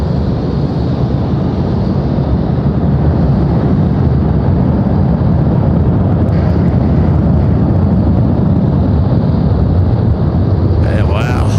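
Jet airplane engines roaring at Sydney Airport at night, a loud, steady broadband rumble sustained throughout as an aircraft passes close by, with a faint whine rising near the end.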